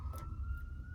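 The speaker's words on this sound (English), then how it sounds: "sorry about the sirens if you can hear them" City sirens sound outside, a faint steady wail drifting in from the street over low background rumble.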